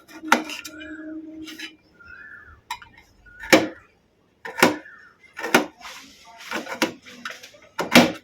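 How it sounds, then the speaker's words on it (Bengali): Knife chopping peeled mango into small pieces on a board, heard as a series of sharp, close cutting knocks and clinks in irregular bursts, with brief quiet gaps between. "এখন আমটাকে পিস পিস করে কেটে নিয়ে ছোট করে করে কেটে নেব"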